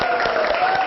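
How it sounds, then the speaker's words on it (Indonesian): Short burst of clapping from a group in a classroom during a lesson, a dense steady patter lasting under a second with no talk over it. "Beri aplaus untuk kita semua."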